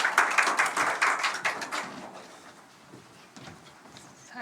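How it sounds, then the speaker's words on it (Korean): A church congregation claps together at a Sunday service, a brisk run of hand claps that stops after about two seconds. Scattered quieter taps and room noise follow. "박수로 한번 초대할까요?"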